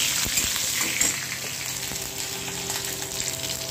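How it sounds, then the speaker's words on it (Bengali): Nigella seeds, cumin, bay leaf and fenugreek sizzle and crackle steadily in hot oil, a close continuous frying hiss with small pops and no talking. "এই কালো জিরে, সাদা জিরে, তেজপাতা, পাঁচফোড়ন আর এইখানে এগুলো মেথি ফোড়ন দিয়েছি"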